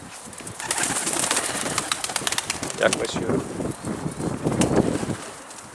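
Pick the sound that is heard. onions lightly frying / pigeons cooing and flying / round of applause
pigeons cooing and flying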